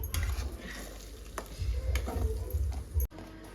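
Masala paste for a paneer dish frying in oil in a pan, giving a soft steady sizzle with light stirring and scraping, close and fairly quiet, with no talk over it.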